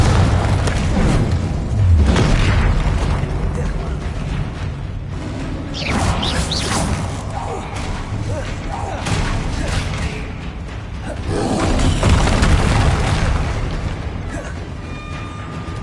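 Confringo fire spell blasts in the Hogwarts Legacy video game, a series of heavy booming explosions with crackling bursts and whooshes, loud and continuous amid combat effects, without speech.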